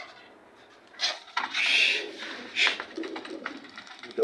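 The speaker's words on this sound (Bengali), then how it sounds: "দুইটা কবুতর এখনো বসে রয়েছে" Pigeons perched in a flock coo in a few soft, intermittent calls at close range, with light rustling and faint background noise between them.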